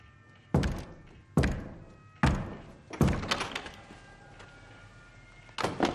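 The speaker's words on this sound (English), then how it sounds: "How many times did I knock?" Four separate knocks on a wall, each a sharp thud in an uneven rhythm, heard close and loud with no talking over them.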